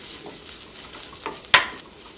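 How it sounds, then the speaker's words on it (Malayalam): A spoon stirs mushroom curry in a pan, soft scraping and light sizzling with a sharp clack of metal near the end, quiet and close. "പക്ഷേ ഇത് വെച്ച് ഇളക്കുമ്പോൾ സൗണ്ട് വരുമല്ലോ."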